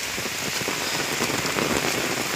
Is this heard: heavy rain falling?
yes